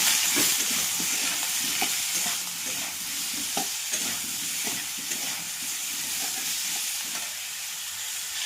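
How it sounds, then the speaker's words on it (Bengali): Potato, pumpkin and eggplant frying with ground cumin, turmeric and salt, a dense hissing sizzle running steadily throughout with frequent soft stirring scrapes and taps, close and fairly loud. "আলু, কুমড়ো আর বেগুন দিয়ে দিয়েছি। এবার জিরে গুঁড়ো দিয়ে দিলাম, একটু হলুদ, একটু লবণ দিয়ে এবার ভালো করে ভেজে নেবো।"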